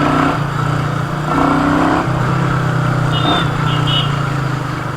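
A 2020 Royal Enfield Meteor 350 with its 349cc single-cylinder engine pulling hard on a ride, a loud steady mid-pitched drone with slight rises in revs and wind noise throughout.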